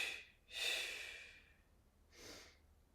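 Slow nasal breathing during a yoga session: a brief airy breath, then a long, loud, rushing exhale through the nose, followed by a softer inhale, close and alone.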